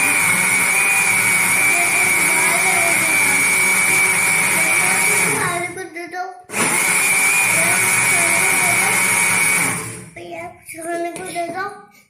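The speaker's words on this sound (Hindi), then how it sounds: "अच्छा, हम थोड़ा थोड़ा डाल के इसको बीट करेंगे" An electric hand mixer beats cake batter as flour and baking powder are added, a steady loud whine running for several seconds, cutting out, then starting again with clattering bowl sounds between runs.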